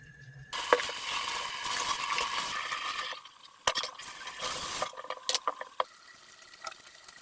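Homemade chips fry in hot oil, a dense crackling sizzle filling the first few seconds before easing into lighter bubbling broken by sharp clinks of stirring.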